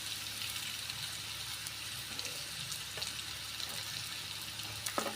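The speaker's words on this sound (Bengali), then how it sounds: "দিয়ে আমি খুব ভালো করে কষিয়ে নেব" Chilli, cumin and coriander powders sauté in oil for a rohu fish curry with potato and green mango, giving a soft, even sizzle at low volume with a few faint stirring taps.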